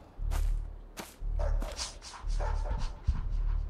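Dog barking in the horror game Playback Trauma: The Dog, several sharp close barks in uneven bursts over a deep rumbling low drone.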